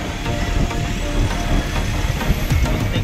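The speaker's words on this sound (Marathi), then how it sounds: "ट्रेन चालली आहे." A train passes on a ghat section in the rain, giving a loud, continuous rumble with rhythmic clattering wheel noise. The sound stays close and steady throughout, and no voices are heard.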